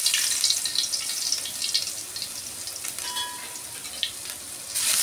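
Mee suah noodles sizzle in hot oil in a pan, a steady close hiss and crackle with small bursts of spattering throughout and no voices.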